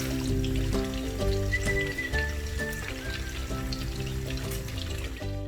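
Chicken pieces for Chicken 65 frying in hot oil make a steady, even sizzle and crackle that stays at the same level throughout, with no voices over it.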